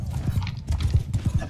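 Horse hooves clip-clop in a Mount and Blade II: Bannerlord battle, a quick irregular run of close, hollow thuds with a faint neigh mixed into the busy game sound.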